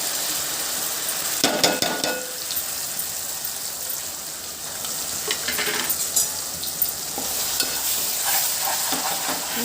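Onion and masala paste fries in hot oil with turmeric for a tomato drumstick curry, giving a continuous sizzle. A utensil scrapes and clinks against the pan now and then, and no one speaks.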